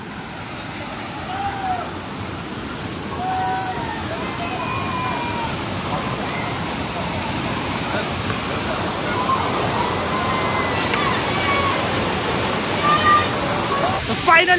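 Khandi waterfall in the Sahyadri hills near Pune rushes as a steady, broadband roar of falling water close by, with faint bird calls and occasional distant voices beneath the constant wash.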